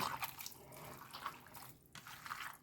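Minced meat being kneaded by hand with water for homemade sausage makes quiet, wet squelching and sloshing sounds in irregular bursts, soft and close.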